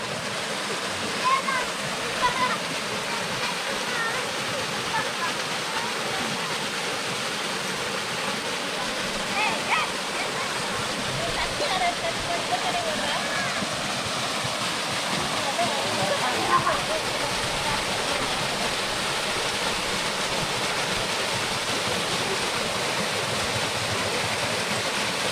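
Kumbakkarai waterfall with low water flow, a steady broad rushing roar of falling water heard continuously and fairly close, with a voice talking over it at times.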